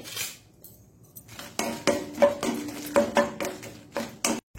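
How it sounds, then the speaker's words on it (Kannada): Peppercorns being dry-roasted in a pan for a Mangalore-style mushroom sukka, heard as scattered close clinks and scraping taps of utensil against metal, rising into a denser run of rattles and stirring knocks. "ಸೊ ಮೆಣಸನ್ನು ಹುರಿಯೋಣ ಸುರಿಗೆ."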